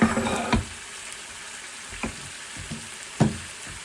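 Pan-fried tandoori chicken with a second coating of marinade sizzles steadily in a pan at its final stage, a soft hiss broken by a few sharp utensil clacks.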